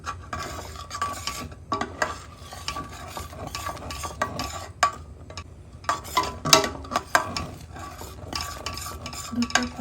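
Thickening milk for kheer is stirred in a pan without pause, with close spoon scrapes and clinks in an uneven rhythm over a faint simmer.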